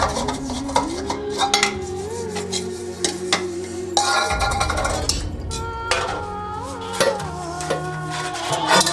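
Dishes, pots and pans clatter and scrape in a steady, busy stream of clinks and rubbing, fairly close and continuous throughout, with no talk over it.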